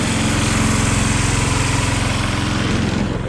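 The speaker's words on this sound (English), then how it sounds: "gonna drive around with the old go-kart" An old go-kart's small engine runs steadily at close range, a loud, even buzzing putter that holds throughout before easing slightly at the end.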